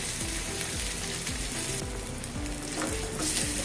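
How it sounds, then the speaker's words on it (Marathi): Grated coconut is frying in a hot oil tempering for moong dal khandavi, giving a steady loud sizzle with crackling pops and some stirring scrapes throughout, with no voices. "हे बघा छान फोडणी तयार आहे। यातच आपण खोबरं घालून घ्यायचं आणि गॅस बंद करायचा।"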